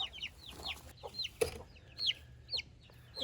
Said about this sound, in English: There's more chickens. Some white ones.